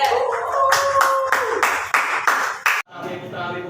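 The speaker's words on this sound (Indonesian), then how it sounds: "Sebelumnya beri tepuk tangan berkelompok juga." A classroom group of students claps hands in a short rhythmic pattern, with several loud, close bursts of claps ending abruptly, followed by faint room noise.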